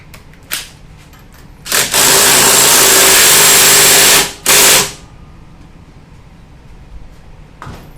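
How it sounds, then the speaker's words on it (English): An impact wrench with a 5/8 socket, fastening a torque converter on a Manco Dingo go-kart, fires in a short burst and then a long loud rattling run with another quick burst after a brief pause; no talking. "You'll take an impact with a 5/8 socket"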